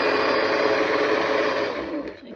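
An electric grinder whirs steadily as it grinds roasted corn, a loud continuous buzzing drone that winds down and fades near the end.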